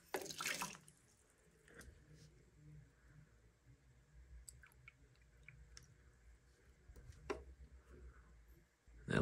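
Water poured out of an exhaust port of a Honda XR200 cylinder head during a top-end rebuild, a brief splashing gush at the start followed by scattered drips and small wet knocks, close and fairly quiet.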